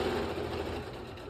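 A sewing machine runs steadily as it stitches a fabric Christmas gift bag, giving a close, continuous motorized whir.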